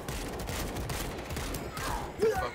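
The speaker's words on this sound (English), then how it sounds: "Shotgun." Rapid gunfire and shotgun blasts in the zombie shooter World War Z, a dense burst of repeated shots with a loud final blast near the end.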